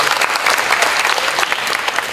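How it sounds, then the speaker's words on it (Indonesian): A seated audience at a gathering of Indonesian content creators gives a steady round of clapping for Bung Ijul, dense and loud, sustained evenly throughout without pauses. "Tepuk tangan buat Bung Ijul."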